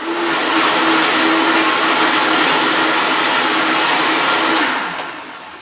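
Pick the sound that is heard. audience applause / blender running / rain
blender running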